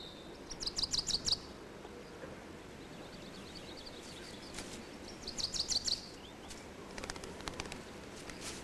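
Small birds chirping outdoors in short bright bursts of rapid tweets, a few calls repeating at intervals over a soft low background hum.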